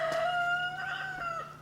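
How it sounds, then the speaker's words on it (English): A rooster crows once, a clear drawn-out call at moderate distance that falls away at the end, with a steady low hum underneath. "damn chickens, roosters"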